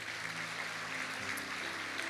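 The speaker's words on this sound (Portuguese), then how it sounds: "Você pode aplaudir ao Senhor?" Congregation applauding during a Pentecost church service, a steady dense wash of clapping lasting a couple of seconds, with music faintly underneath.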